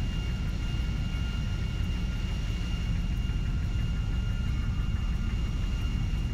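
A steady, droning aircraft engine roars without pause in a Grand Theft Auto V flight, a dense low rumble with a constant high whine riding over it and no voices.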